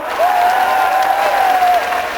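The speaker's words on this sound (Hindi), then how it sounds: "बहन जी सुषमा जी के लिए जोर से ताली बजाओ" A political rally crowd in Hisar applauding loudly for a guest, dense steady clapping with a sustained tone running through it, with no talk over it.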